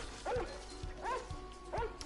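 A cartoonish dog in the LittleBigPlanet platformer game gives three evenly spaced yipping barks, clear and close over a quiet background.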